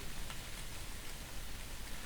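Steady rain pouring on a surface, an even, close hiss of countless drops with no pauses, set as a rainy night street in a spoken horror story.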